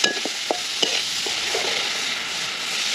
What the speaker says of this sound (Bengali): এই মশলাটা খুব সুন্দরভাবে কষানো হয়ে যাচ্ছে